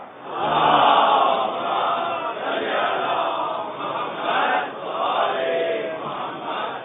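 Religious gathering with a large crowd reciting salawat loudly in unison as a response, a sustained chanted roar of many voices swelling and falling over about seven seconds.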